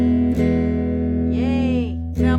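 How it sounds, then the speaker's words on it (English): Electric guitar played through an amplifier, a loud sustained chord ringing steadily with a bending note in the middle and fresh strums at the start and end, no talking. "This is my electric guitar."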